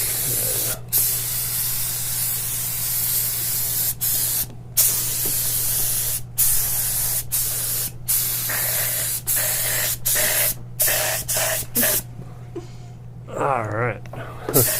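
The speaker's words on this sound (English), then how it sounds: "I didn't even think about getting this big spray gun out." A large spray gun sprays UV body paint in long, loud bursts of hissing spray, broken by short pauses, with a steady low hum of the compressor underneath and a person talking near the end.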